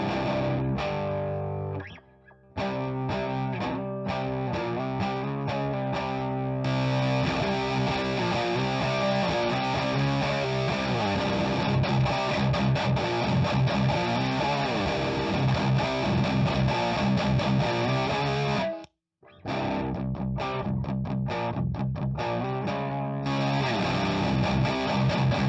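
An electric guitar plays through an MXR Distortion Plus pedal, heavy distortion with chords and riffs ringing continuously, broken only by two brief silent gaps.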